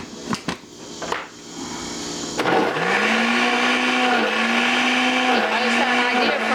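Blender making a homemade slushie, a few knocks and clicks before the motor kicks in with a loud, steady whirring hum that dips briefly in pitch as the ice grinds, close and continuous.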